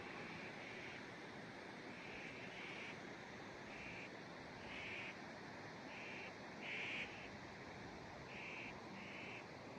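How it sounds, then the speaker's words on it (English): Faint bird calls repeat in short bursts far off in the Eastern Sierra outdoors, thin against a steady wash of wind-like background noise. "You might want to turn up your volume to hear the birds."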